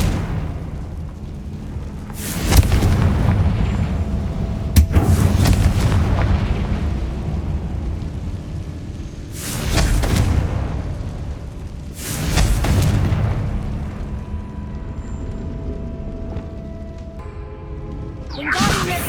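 Spell blasts in a Harry Potter video game, with a Confringo explosion spell bursting open treasure chests: several loud booming whooshes arrive a few seconds apart over a constant rumbling game background.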